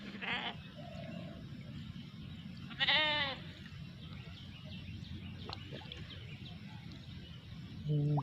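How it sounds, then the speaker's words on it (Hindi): A flock of sheep in the open, one bleat near the start and a longer, louder wavering bleat near three seconds, over steady ambient background noise, with another call cut off at the end. "हम लोग आ चुके हैं भेड़ों के झुंड में, जैसे कि आप देख रहे हैं यहाँ पे"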